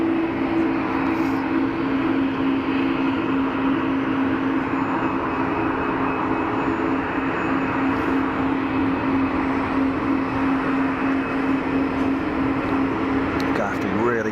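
An airliner at Geneva Airport spools up its engines for takeoff: a steady, loud broadband roar with a droning low hum, holding even for about fourteen seconds before a slight rising whine near the end.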